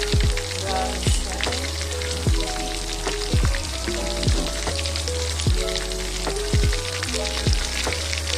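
Chicken wings for sweet and spicy buffalo wings frying in oil, a steady loud crackle and sizzle with popping bursts throughout.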